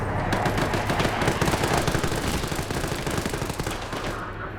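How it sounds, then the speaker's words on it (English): Sustained rapid gunfire from an aircraft strafing run in the Arma military video game, a dense rattling burst that runs continuously for several seconds with no talk over it. "They're doing yet another strafe."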